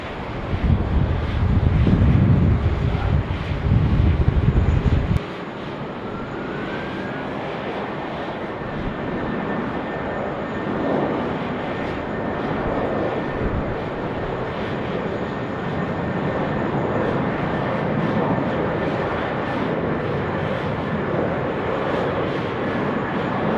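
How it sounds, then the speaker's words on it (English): A Qantas airliner takes off from runway 16 right at Sydney Airport: a steady, loud, broad jet roar with a slowly rising whine that holds for about twenty seconds, following a brief burst of low wind buffeting. "Qantas 455, runway 16 right, clear for takeoff"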